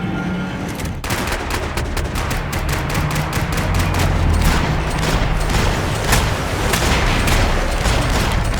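Dense gunfire from a Max Payne 3 firefight: rapid overlapping shots and bursts crack loudly and continuously, with heavy low rumble underneath and no break in the barrage.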